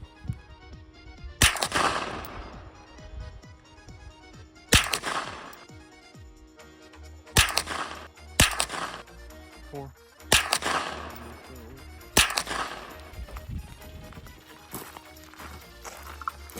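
Six loud rifle shots from a Palmetto AKV9 fired at a target 50 yards away, sharp cracks spaced a few seconds apart with short decaying echoes and faint background hum between them.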